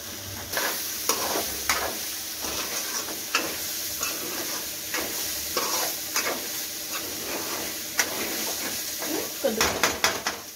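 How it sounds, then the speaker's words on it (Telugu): A coconut, ginger and garlic masala sizzles in a pan for a Godu chikkudukaya curry, a continuous frying hiss with frequent scraping clicks and taps of a spoon against the metal, close and fairly loud. "కొబ్బరి, అల్లం, వెల్లుల్లి వేస్తాం కదా, కొంచెం ఫ్రై అయ్యే వరకు"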